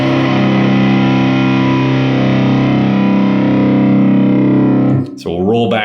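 An electric guitar through a JHS Bender distortion pedal rings out as one sustained, thick, fuzzy chord that holds for about five seconds before cutting off, after which a person starts talking.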